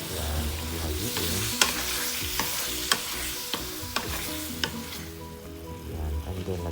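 Vegetables with black beans and oyster sauce are stirred in a hot sizzling pan. Several sharp utensil clacks land at a loose, regular pace over a continuous frying hiss.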